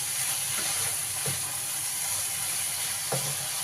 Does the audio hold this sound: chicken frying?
yes